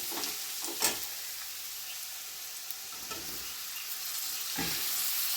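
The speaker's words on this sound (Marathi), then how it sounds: "आता टोमॅटो टाकलं, चांगलं असं हलवून घेतो।" Tomatoes with a little turmeric fry in a pan, a soft continuous sizzle broken by a few spoon knocks and stirring scrapes, fairly quiet and with no voices.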